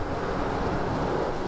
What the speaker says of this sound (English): another pass of spot-free rinse